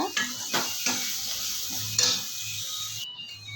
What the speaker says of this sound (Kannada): ಸ್ವಲ್ಪ ಚೆನ್ನಾಗಿ ಫ್ರೈ ಮಾಡ್ಕೊಬೇಕು. ಈರುಳ್ಳಿ ಎಲ್ಲ ಬ್ರೌನಾಗಿ ಬರಬೇಕು